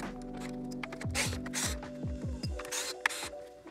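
Screws come out of a Onewheel GT board: short, close bursts of a powered driver whirring and winding down, about six in quick succession, at fairly low volume.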